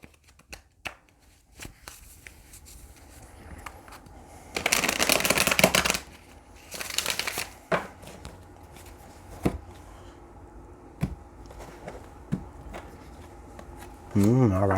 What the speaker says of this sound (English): I'm hearing one more shuffle.